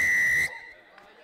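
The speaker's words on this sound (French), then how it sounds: "C'est sifflé, les gars." A rugby referee's whistle at an elite U19 juniors match between PIA Baroudeur and Carcassonne gives one loud, sustained shrill blast of about half a second, then cuts off to faint crowd murmur.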